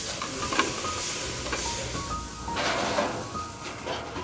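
Porcini mushrooms, salted at the start of cooking, sautéing in a pan in a Michelin-starred French restaurant kitchen: a steady close sizzle with stirring and light scraping throughout, no talking.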